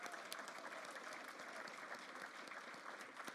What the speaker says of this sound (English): I'd like to give a round of applause to the graduates today.